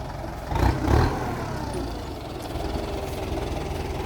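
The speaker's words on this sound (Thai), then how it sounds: "เอา รถไถมาแล้วพี่น้องเครื่องปั่นมาแล้วเครื่องปัดเอามาแล้ว" A farm tractor idles at a steady, moderate level, with a brief louder swell of engine noise early on and no talking.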